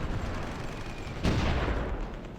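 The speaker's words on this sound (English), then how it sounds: "that sounds like a naval gun somewhere" A naval gun fires in the Supreme Ruler Ultimate strategy game: one distant boom lands partway through, over a dense, continuous rumble of battle noise.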